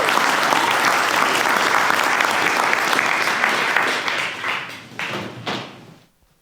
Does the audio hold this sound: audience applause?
yes